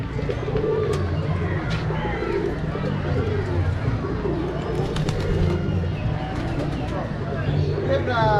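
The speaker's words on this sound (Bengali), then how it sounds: "কবুতর" Pigeons coo at the Chittagong Zoo in Bangladesh, a low, steady murmuring that runs throughout beneath nearby voices and general crowd background.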